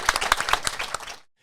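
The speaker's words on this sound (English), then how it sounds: "Give yourselves a round of applause." A live podcast audience at a sports show claps and applauds for about a second, a dense, fairly loud burst of many hands that cuts off abruptly into silence.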